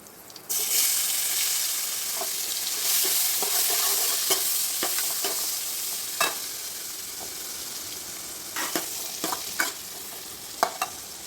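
Tomatoes sautéing in hot oil in a pan for a Jain dal pakwan recipe, a steady close sizzle with repeated spoon stirring and scraping strokes and a few sharper clinks toward the end.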